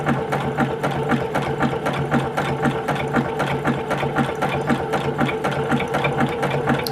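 A sewing machine stitching through layers of fabric for a table runner, loud and close, with a steady rapid mechanical rhythm of needle strokes over a motor hum, no voices.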